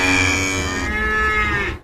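Cattle lowing in a cattle market, a loud, sustained moo with rich harmonic tones that holds steady for nearly two seconds before cutting off, with no speech.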